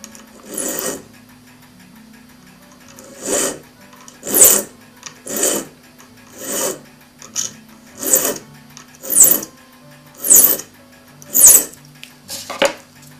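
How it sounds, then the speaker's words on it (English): A needle file rasps back and forth across the end of a tapered steel clock pin held in a timber support, about ten short, evenly spaced strokes, close and clear with quiet pauses between them. "Using needle file, file the end of the tapered pin flat."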